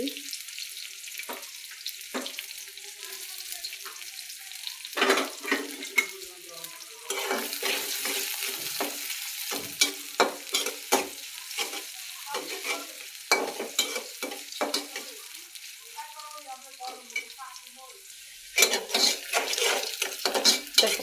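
Onion and green chili frying in a pan for a fish and eggplant curry, with a steady close sizzle and repeated scraping stirs and clinks of a utensil against the pan, with no talk.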